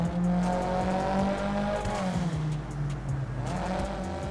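A Corvette racing in GTA 5 roars with a steady, loud engine drone that holds its revving pitch, with brief tire squeals over the top, close and continuous throughout.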